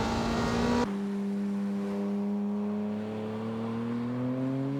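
Honda NSX-R, Porsche and Ferrari F355 race cars at Tsukuba Circuit: a loud engine roar cuts off abruptly, then a steady high whine rises slowly in pitch as a car accelerates.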